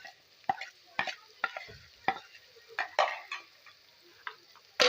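A spoon scrapes and stirs through frying potato keema as spices are mixed in, giving sharp, irregular scraping strokes over a faint sizzle, close and distinct with no talking.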